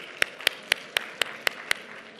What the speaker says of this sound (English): a big round of applause for AgNexus